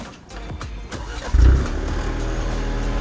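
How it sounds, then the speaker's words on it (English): A 2023 Maserati Levante GT four-cylinder hybrid starts up: a few quiet clicks, then a loud, deep bassy engine catch that settles into a steady, rumbling idle close by, with no talking. "it sounds like a 4-cylinder with more bass"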